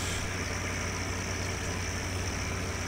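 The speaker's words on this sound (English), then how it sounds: "nice little tractor here" A tractor engine in a farming video game runs steadily as a continuous, even drone with a hissy, broadband texture, up close and alone with no talk.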